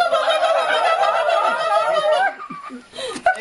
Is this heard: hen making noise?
yes